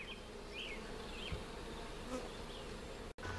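Dense, steady buzzing of a swarm of package honeybees as they are shaken into a hive, heard close and continuous, with a brief knock near the end.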